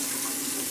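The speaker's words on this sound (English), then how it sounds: "first I turn on the cold water" Cold water runs from a kitchen tap in a steady, close, even hiss of flowing water.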